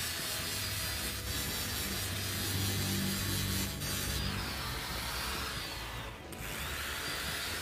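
An angle grinder works a stainless steel weld with a loud, continuous abrasive whine and grinding rasp, close up, the pitch shifting and briefly dropping as pressure changes; no talking.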